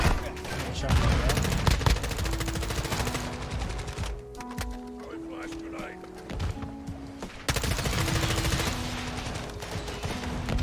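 Gunfire from Call of Duty Modern Warfare 2 during the Atomgrad raid, with loud sustained bursts of automatic fire, a quieter lull with scattered game tones in the middle, then heavy firing again.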